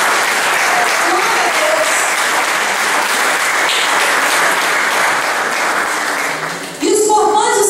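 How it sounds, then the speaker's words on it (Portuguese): Church congregation applauding the Lord during a Portuguese-language worship message, loud sustained clapping from a crowd with a voice speaking over it, then the applause swells again at the end. "E dê um aplauso ao Senhor"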